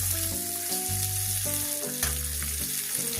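Raw mango pieces sizzle in hot oil in a pan, a continuous crackling fry heard up close under a layer of background music.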